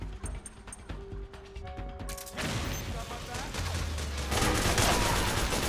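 Gunfire and explosions from Metal Gear Solid 4 gameplay, with dense bursts of shots growing louder and busier partway through over low rumbling effects and mechanical clicks; a voice is faintly present.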